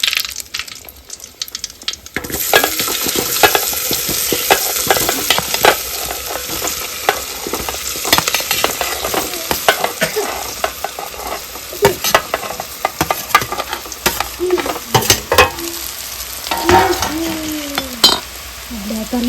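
Curry leaves tossed into hot oil while tempering dudhi muthiya: a sudden loud crackling sizzle bursts in after a quiet start, then keeps spitting and popping close up with scattered sharp snaps and light stirring clatter.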